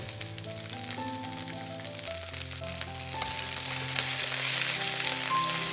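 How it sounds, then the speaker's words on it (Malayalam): Shallots, garlic and curry leaves sauté in a hot pan, giving a steady, close sizzle that holds through and grows a little louder toward the end, with no voices. "കുറച്ച് കറിവേപ്പിലയും കൂടി ഇട്ട് ഇതൊന്ന് വഴറ്റിയെടുക്കാം"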